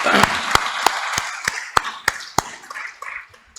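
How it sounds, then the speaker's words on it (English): At the AMASA-15 opening ceremony, sharp, evenly spaced claps ring out about three times a second over a softer spread of audience applause that fades toward the end. "I would like you to join me to applaud him for his presence"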